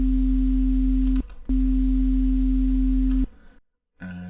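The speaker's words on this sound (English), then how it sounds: "oscillator A would be a basic shape sine wave again" A loud, pure steady tone drones, cuts out briefly, returns, then stops; after a short silence a different buzzy tone begins.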